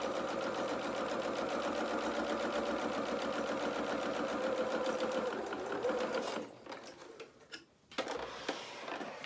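A sewing machine stitches a fabric bow with a fast, steady mechanical whir of rapid needle beats, close and even, then stops and restarts in short bursts as it reverses at the end of the seam.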